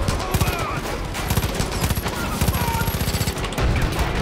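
Heavy-recoil gun in Far Cry 5 firing rapid, tightly spaced automatic bursts, loud and close, with short pauses between volleys and a voice talking faintly underneath.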